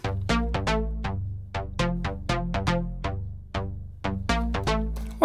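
A soloed bass loop channel from a DAW, a sequence of plucky synthetic notes with sharp attacks and quick decays in a bouncing rhythm, loud and dry with no voices.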